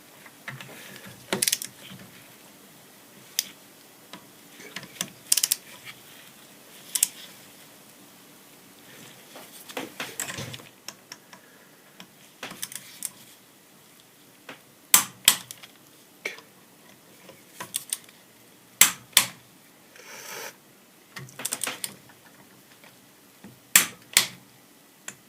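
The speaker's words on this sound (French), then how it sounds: "je vais aller chercher ma clé dynamétrique pour serrer au point à la clé dynamétrique" A torque wrench with a 25 socket tightens a Denso HP2 diesel injection pump, giving scattered sharp ratcheting clicks and metallic knocks, close and intermittent against quiet workshop background.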